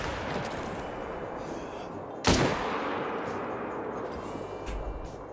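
A single loud rifle shot cracks out midway while hunting a turkey in Call of the Wild, followed by a decaying boom against quiet outdoor ambience.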